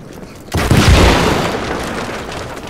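A loud, close explosion from the video game Evil West, a sharp boom with a long roaring, crackling decay fading over about two seconds.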